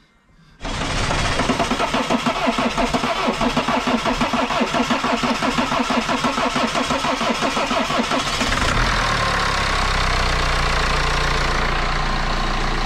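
A BMW N47 diesel engine with automatic gearbox and xDrive cranks briefly, then catches and settles into a loud, steady, clattering idle that continues to the end.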